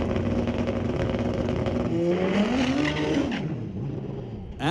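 A green Kawasaki drag racing motorcycle launches down the drag strip at Mission Raceway Park. A steady engine roar climbs in pitch and then recedes, with no one talking.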